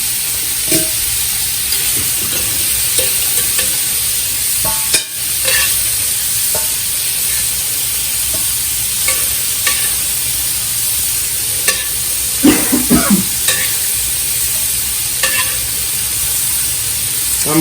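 Shrimp frying in a hot pan for pasta, loud steady sizzling with scattered spatula scrapes and taps throughout, close up and without speech.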